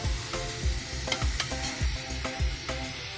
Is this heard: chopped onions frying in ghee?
yes